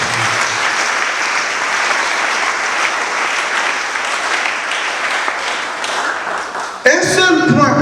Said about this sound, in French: Acclamons encore pour la parole.